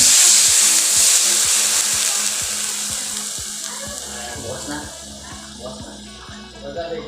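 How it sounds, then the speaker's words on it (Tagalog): Water goes into a pan of sautéed onion, garlic and chicken for pancit, setting off a loud, dense sizzle and hiss that slowly fades, while a utensil knocks steadily against the pan and someone speaks over it. "Ito na po, lagyan natin tubig."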